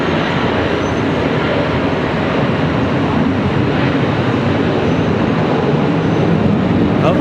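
Fighter jet taking off at Charlotte Douglas International Airport, a loud, steady broadband roar that fills the whole stretch without pause.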